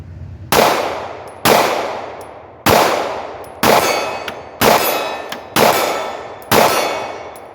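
A Glock 43 pistol's rounds strike a steel target 30 yards out, seven bright metallic clangs at roughly one-second intervals, each ringing and fading before the next, loud and clear with no voices.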